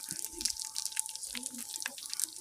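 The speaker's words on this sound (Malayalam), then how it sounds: "ഇപ്പം അതാ പച്ചടിയിലോട്ട് ഒഴിച്ചു കൊടുക്കുന്നു" Hot tempering is poured into beetroot pachadi with a short burst of wet dripping and splashing, close and fairly quiet.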